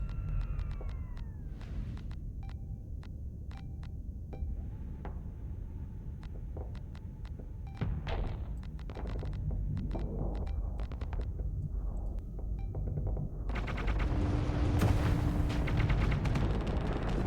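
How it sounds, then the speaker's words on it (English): Sledge guns fire in the Starsector space combat game, modded version 0.98a, as a string of sharp blasts and heavy booms over a rumbling battle bed that grows louder and denser toward the end. "Yep, here come the sledge guns."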